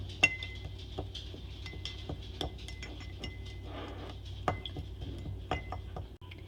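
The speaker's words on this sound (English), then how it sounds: "Using our plastic knife, we're going to squish up those leaves in the jar." A plastic knife presses and mashes leaves in rubbing alcohol inside a jar, giving repeated light clinks and taps against the glass in an uneven rhythm, close and fairly quiet over a steady low background hum.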